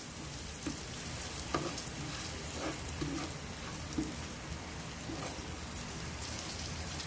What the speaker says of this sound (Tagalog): Igisa lang po natin.